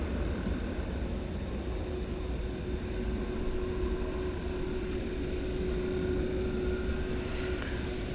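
A Boeing 737-800 at DFW Airport at night, a steady, fairly distant jet engine roar that holds at an even level throughout with a faint tonal whine.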